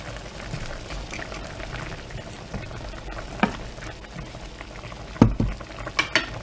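Tinola chicken soup with sayote simmers in a pot, a soft continuous bubbling and hiss with a few louder clinks and stirring knocks near the end, no voices.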